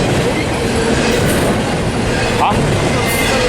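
A freight train rolls along the rails at Commerce near Fullerton, a steady broadband rumble and rattle of railcars and wheels filling the whole stretch, loud and continuous, with a brief squeal midway and faint voices underneath.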